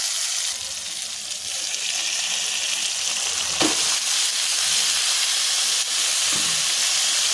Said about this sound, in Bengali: এবার আমি এখানে দিয়ে দেবো সিদ্ধ করে রাখা মোচা